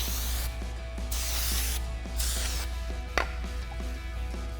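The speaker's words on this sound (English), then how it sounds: "So we're just going to spray this down with our brake cleaner." Brake cleaner sprays onto new PowerStop Z36 brake rotors for a 2014-2018 Chevrolet Silverado or GMC Sierra 1500 pickup, in several close, loud hissing bursts separated by short pauses.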